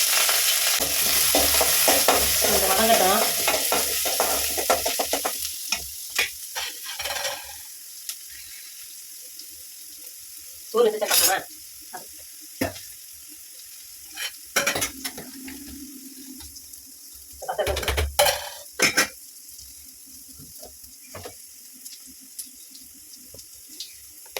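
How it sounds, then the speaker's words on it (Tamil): Onion is fried in oil with mustard seeds and red and green chillies, giving a close, steady sizzle for the first few seconds. It then quiets, broken by a few short bursts of running water and stirring clatter. "வெங்காயம் வதங்கட்டும்"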